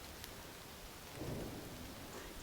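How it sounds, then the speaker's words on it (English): A faint, distant low rumble like far-off thunder swells briefly over a quiet, hissing background. "It's the volcano erupting, producing a sound similar to thunder."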